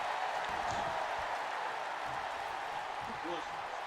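A large crowd roars and cheers continuously in a big arena during a WWE wrestling tag team match, a steady wash of noise with an announcer's voice talking over it.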